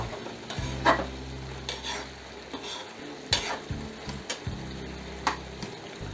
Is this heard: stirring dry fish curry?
yes